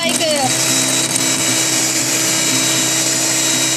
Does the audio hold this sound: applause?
no